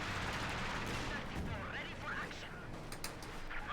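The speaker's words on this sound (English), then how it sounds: "Panther takes a hit from the field gun, or at least a shot." In the Company of Heroes 2 strategy game, a field gun fires at a Panther tank, with a sharp blast and booming rumble of combat under steady commentator talk.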